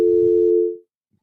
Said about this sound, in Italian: È caduta la linea, speriamo non si sia fatta male.